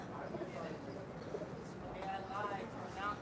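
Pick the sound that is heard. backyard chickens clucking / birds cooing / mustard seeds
birds cooing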